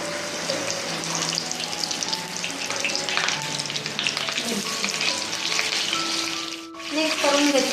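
Cumin, mustard seeds and curry leaves sizzle steadily in hot oil for a vegetable dish, a dense, continuous crackle with light stirring and a brief dip near the end; no talking.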